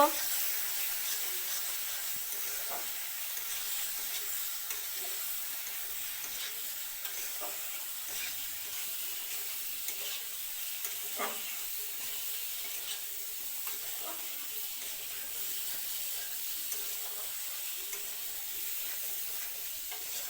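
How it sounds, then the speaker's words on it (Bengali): Potatoes fry in a pan as they are stirred with salt, turmeric and spice powder, producing a continuous soft sizzle with scattered scraping clicks from the spoon throughout. "সামান্য অল্প লবণ দেওয়া হইব হলুদ গুঁড়া মশলা দিয়ে ভালো করে কষানো হইব"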